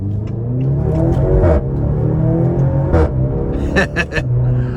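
A 2023 Maserati Grecale Modena's turbo four-cylinder engine revs and accelerates through a couple of harsh gear shifts, its exhaust note rising and falling, loud and close with brief pauses between.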